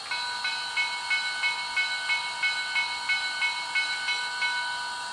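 A model Pennsylvania Railroad M1 steam locomotive bell clangs in a steady, regular rhythm, about a dozen evenly spaced strikes over a constant background hiss.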